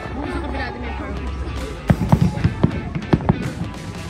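Fireworks pop and crackle in a quick cluster of sharp bangs over a crowd's chatter and a busy, noisy background.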